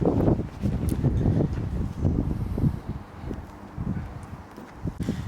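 Gusty wind buffets an outdoor microphone beside a Lay-Z-Spa Milan hot tub, a rough rumble rising and falling in uneven surges with no voices.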